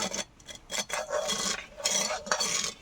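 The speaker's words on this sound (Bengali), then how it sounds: "তখন আমি শিরাটাকে চিনির লগে মিশিয়ে নেব" Sugar syrup being stirred in a pot, a close series of scraping, swishing spoon strokes against the vessel in an uneven rhythm for a few seconds, with no voices.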